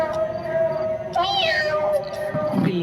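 A cat meows in a drawn-out, rising and falling call, close and clear over faint background sound, followed by a short softer noise.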